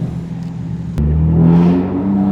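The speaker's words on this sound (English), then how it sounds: "So to hear the intake on the road, like close the valve, efficient mode" A BMW G80 M3 accelerating on the road with its exhaust valve closed in efficient mode; a quiet hum jumps into a loud, rising engine and intake roar, close and alone.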